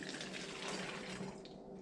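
Vinegar poured into a bottle, a faint steady gushing stream of liquid running continuously and quietly without talk.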